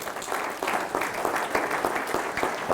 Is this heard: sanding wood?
no